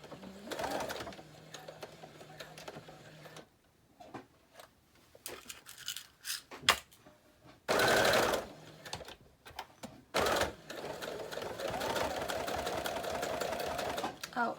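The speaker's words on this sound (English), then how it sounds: "Now on this, I'm just going to do a straight stitch." A sewing machine runs a straight stitch on a journal pouch in short, close bursts of rapid stitching, separated by pauses with small handling clicks and a longer steady run toward the end.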